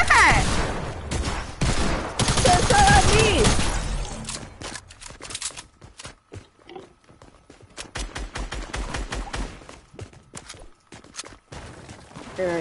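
Rapid bursts of video-game gunfire crackle in the opening seconds, loud and dense, then thin into scattered sharp shots and faint clicks over the rest.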